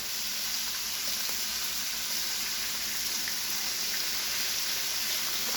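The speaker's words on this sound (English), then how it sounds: "right now, I'm loving how this bacon's cooking up" Bacon fries on a Steelmade USA flat top griddle, a steady, even sizzle with faint crackle that holds at a constant moderate level from start to finish.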